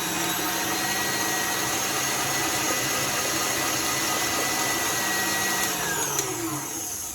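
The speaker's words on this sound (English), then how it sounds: "So I'm going to start it on 1, and then I'm going to mix it all the way" Electric hand mixer running steadily at high speed while whipping lamington batter, a loud continuous whirring whine that holds constant throughout with a slight shift near the end.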